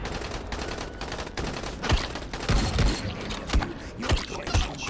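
Armed enemies in Dying Light fire irregular bursts of gunshots, loud and close, with sharp cracks over a dense, busy in-game din.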